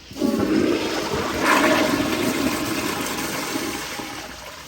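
A Kohler Kingston 1.6 gpf toilet, partly clogged with toilet paper, gives a second flush: a loud close rush of water that surges, then drains off steadily and fades a little toward the end.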